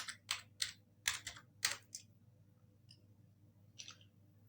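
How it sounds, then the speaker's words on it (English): Typing on a computer keyboard, with a quick run of sharp clicking keystrokes, then a pause and a couple of softer, isolated taps, close and fairly quiet. "So I'll type the word visitors in capital."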